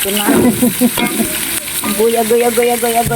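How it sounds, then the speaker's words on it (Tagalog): Beef stir-fried in a hot pan: loud, close sizzling with busy stirring clatter throughout, plus some tonal background sound. "Stir fry muna natin yung ating beef."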